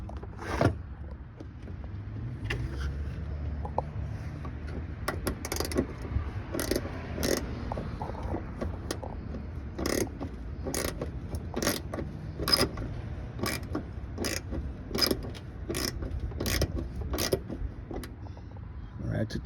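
A ratchet works on 10mm fender bolts of a 2014 Honda Accord EX-L V6 in a run of quick, evenly spaced clicks over a low background rumble; a voice talks in places.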